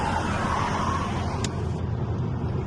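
An Alfa Romeo MiTo Quadrifoglio Verde, a cheap auction car brought back from non-running condition, with its engine held at a steady loud rev and a broad droning roar that stays constant, near and without speech.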